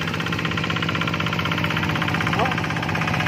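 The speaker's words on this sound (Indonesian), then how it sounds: "Jadi menggunakan traktor teman-teman." A tractor engine runs steadily while hauling rice grain through muddy fields, a loud chugging drone with a fast, even pulse, close by, and a voice is heard briefly.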